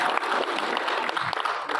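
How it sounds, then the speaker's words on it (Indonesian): Brief burst of audience applause at an HMI political forum in East Java, dense clapping from a hall crowd, steady and fairly close, lasting under two seconds. "Ini mesti tepuk tangan harusnya ini."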